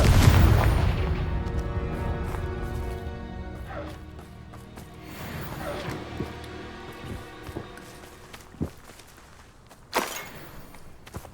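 A Confringo fire blast spell goes off in Hogwarts Legacy as a heavy booming burst that fades into a long rumbling decay, followed by scattered footsteps and a few sharp impacts, with no voices.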